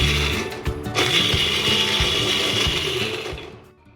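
A kitchen blender grinds ginger and green chili into paste, a loud, steady whirring motor with rattling blade clatter that winds down and fades at the end.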